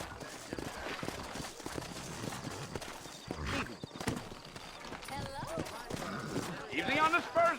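Horse hooves clip-clop steadily across a Western frontier setting in Red Dead Redemption, a moderately loud rhythmic plodding that runs beneath a man's spoken dialogue throughout.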